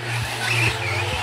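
An RC short course 4WD truck drifts during a race, its small motor whining at a steady pitch while the tires scrub and skid across the track in a brief, continuous burst.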